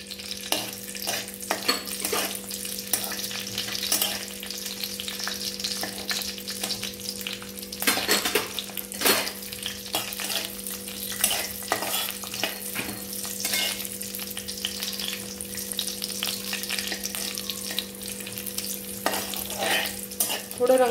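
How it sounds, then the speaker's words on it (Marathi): Cashews and raisins fry in ghee in a pan for matar paneer pulao, giving a steady sizzle with repeated stirring clicks and scrapes throughout. "तूप घातल्यानंतर सगळ्यात आधी आपण जे ड्रायफ्रूट्स घेतले ते आपण फ्राय करून घेऊ।"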